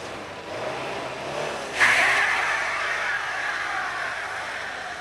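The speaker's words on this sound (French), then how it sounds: "La Subaru AWD dans son élément sur la neige." A Subaru all-wheel-drive car driving through snow on a slope, its steady engine drone swelling sharply partway through into a louder, nearer rush that then eases off, with no voices.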